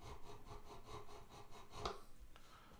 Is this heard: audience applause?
no